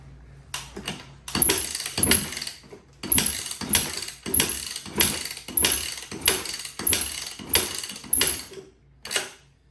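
Repeated kick-starter strokes on a 450 dirt bike, a dozen or so rhythmic mechanical clunks and rattles at a steady pace, close by, with no engine catching.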